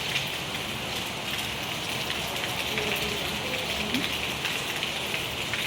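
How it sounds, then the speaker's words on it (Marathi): Fine light drizzle falling outside a window in the early morning, a soft continuous patter and hiss, faint and even throughout. "बाहेर असा एकदम बारीक बारीक पाऊस येतोय"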